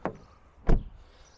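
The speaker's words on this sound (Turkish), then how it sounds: "Ve gerçekten ağır bir kapısı var arkadaşlar." The heavy door of a new Opel Astra L shuts twice: a light click, then a solid, deep thud about half a second later, close by and with no talk.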